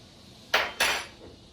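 A spoon knocked twice against the rim of a bowl while making sourdough bread batter of water, flour and honey, two sharp clinks about a quarter second apart, close and clear with no talking.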